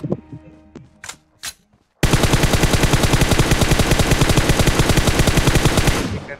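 Automatic gunfire in the mobile battle-royale game BGMI (PUBG Mobile): after a few faint sounds, one long, rapid, evenly paced burst of loud shots runs for about four seconds, then stops abruptly.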